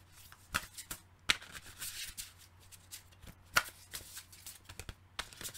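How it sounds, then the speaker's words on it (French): Oracle cards being shuffled by hand, a run of soft papery riffles and flicks with a few sharper snaps, close and alone. "Je bats les cartes en même temps."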